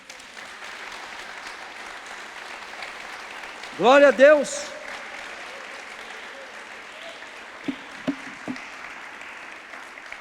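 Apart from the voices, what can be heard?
congregation applause in church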